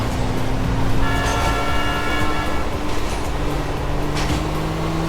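A subway train in the video game GTA IV rumbles loudly and steadily, with tonal horn-like notes sounding over the continuous rolling noise.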